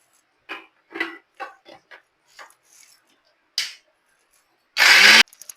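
A kitchen mixer grinds a paste of onion, tomato, garlic, ginger, turmeric, chili, sambar spice and cumin in one short, loud burst near the end, after several light clicks and taps.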